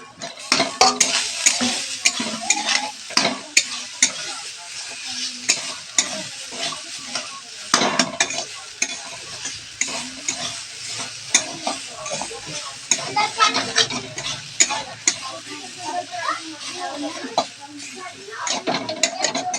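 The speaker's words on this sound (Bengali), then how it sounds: "এইভাবে নারকেলটা একটু ভেজে নেব, নেড়ে চেড়ে।" Grated coconut fries in a pan for a sweet puri filling while a utensil stirs and scrapes it, making a steady sizzle with repeated close clatters against the pan.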